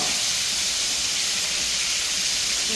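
Chicken pieces fry in plenty of hot oil, giving a loud, steady, broadband sizzle that holds unbroken throughout with no voices.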